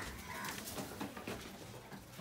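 Pigeons inside a loft, with soft cooing and rustling close by, no voices.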